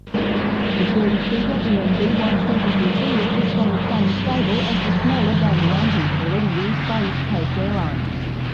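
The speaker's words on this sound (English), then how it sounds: "The new turboprop airliner, which was put through its paces at Williamtown Airport" A turboprop airliner flies at Williamtown Airport in 1985, giving a loud, steady, droning engine hum that fills the whole stretch. A voice seems to talk over it.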